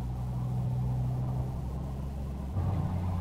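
Triumph Rocket 3 R motorcycle engine under a small blip of throttle, a steady deep rumble that swells slightly near the end, heard close and continuous while riding, with no talking.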